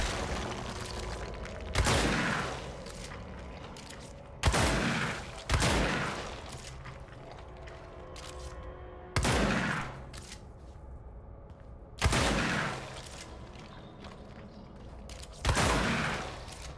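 Single gunshots from a video-game weapon, fired at mold in Control, boom out loud and close at spaced intervals, about six shots with brief decaying tails over a low ambient hum.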